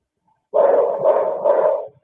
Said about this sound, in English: As loud as the dog barking is, we should hear it